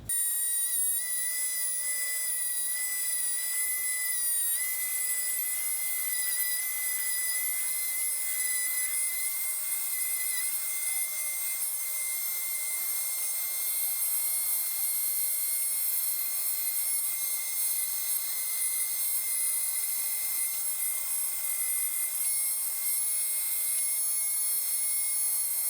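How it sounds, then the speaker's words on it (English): A rotary tool cuts stars out of wood for a rustic flag, a steady high-pitched whine with a constant tone and faint grinding that runs without a break for the whole stretch. "One way that's pretty popular is to use one of these rotary tools."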